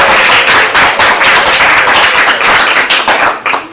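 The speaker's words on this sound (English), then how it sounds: "Give them a thunderous applause." An audience at a live improv comedy show breaks into loud, dense applause that rolls on steadily throughout and fades slightly at the end.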